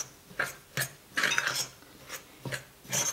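A potato and cheese ball mixture is stirred in a bowl, giving a handful of separate scraping, clinking utensil strokes roughly every half second, close up and alone with no talk.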